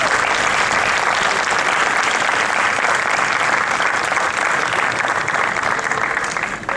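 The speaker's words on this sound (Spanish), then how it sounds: "Un aplauso para ellos." A live audience at an international storytelling festival in La Guajira, Colombia, breaks into sustained applause, dense clapping heard close and loud throughout before fading slightly at the very end.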